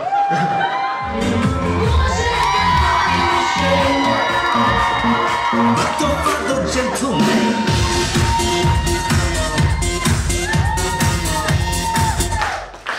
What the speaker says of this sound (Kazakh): Қыздар шыңғырыңдаршы.